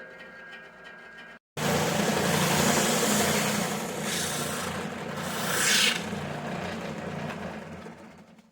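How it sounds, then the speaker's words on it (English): A belt sander grinds steadily at a wooden ghost shape for a woodworking fall project, a loud continuous abrasive whir with shifting rasp as the piece is pressed and moved, after a brief quiet gap at the start. "I'm going to take it over to the belt sander, see what I can do with it."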